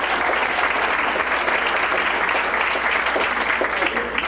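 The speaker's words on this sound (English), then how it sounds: "So I could use some applause again." Sustained audience applause at a feminist award event, dense and fairly loud clapping from a large crowd, steady and continuous throughout.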